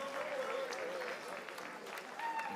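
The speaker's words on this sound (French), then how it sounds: "On nous applaudit le Seigneur." Church concert audience clapping at a choir performance, a soft, continuous patter of hands under a voice and faint tonal singing, heard from some distance.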